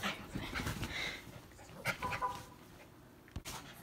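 A dog pants and whimpers softly close by, with faint rustling and a couple of brief sharper sounds.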